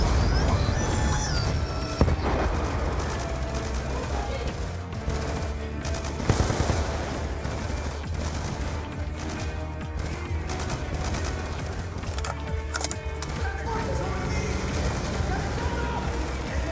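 Sustained automatic gunfire in the video game Call of Duty: Black Ops II on Xbox One X, a dense, loud and continuous barrage of shots layered with engine rumble and battle noise.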